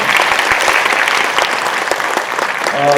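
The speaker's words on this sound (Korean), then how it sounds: "답변해 주신 노재성 한시현 입학사정관님께 한 번 더 박수 한번 부탁드리겠습니다." An audience at a university admissions academy session gives a round of applause, a loud, continuous patter of many hands clapping that runs throughout.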